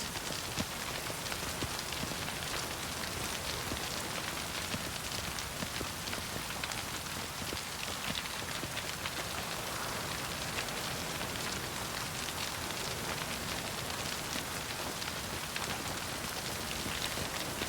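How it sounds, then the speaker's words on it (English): Steady rain pours down in the streets of a city in The Witcher 3, a dense, even hiss of falling drops that runs unbroken and fairly loud throughout. "Rain."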